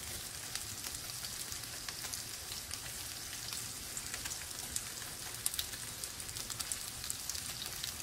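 Onion rings fry in a pan of hot oil, a steady close sizzle with fine crackling pops running evenly throughout, no talk over it.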